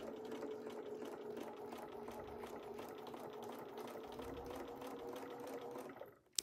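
A sewing machine stitches a scrappy wedding ring quilt, its needle chattering in a fast, even mechanical rhythm at low volume before stopping near the end.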